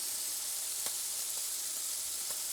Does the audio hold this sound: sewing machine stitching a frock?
no